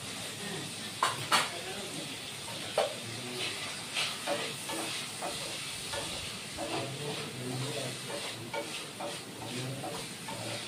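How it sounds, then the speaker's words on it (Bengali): Squash and potato pieces lightly frying in a pan give off a steady sizzle and hiss, broken by a few sharp clicks of stirring, close and continuous throughout. "কোয়াশটা আলুটা অল্প ভেজে নিচ্ছি।"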